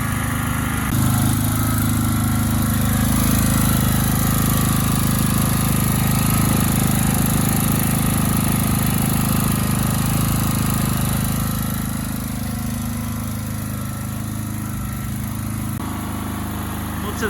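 A Full GL 3500L generator engine runs steadily and loud throughout, a continuous droning hum with mechanical clatter that eases slightly near the end.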